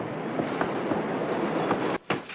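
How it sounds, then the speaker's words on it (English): A train rolls past in a scene from The Blues Brothers, a steady close rumble with rhythmic wheel clatter that breaks off briefly near the end. "How often does the train go by?"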